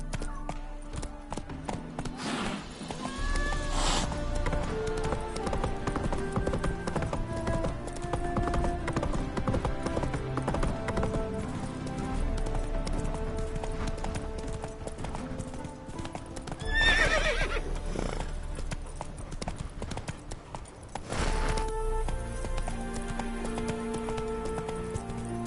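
Horse hooves clip-clop steadily at a trot in The Witcher 3 game, with a few loud neighs and whinnies over layered music and ambient game sound, continuous and close throughout.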